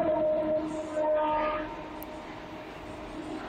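A Mumbai fast local train passing near Mumbra on the CSMT line, a moderately faint rumble and hum with a brief higher tone, steady throughout the few seconds with no talk.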